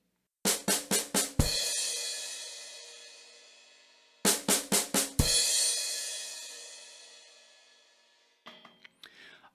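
On a drum kit, four quick snare hits lead into a crash cymbal struck together with the bass drum, the cymbal ringing out long. The fill then repeats identically, followed by a few faint taps at the end.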